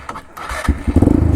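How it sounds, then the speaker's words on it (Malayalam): An orange ATV track bike engine cranks and catches, settling into a steady, rapid idle putter close by, with no talk over it. "ഇത് എഞ്ചിൻ സ്വിച്ചാണ്. ഇത് ഓണാക്കിയിട്ട് ബ്രേക്ക് പിടിച്ചിട്ട് നിൽക്കാൻ നേരത്ത്"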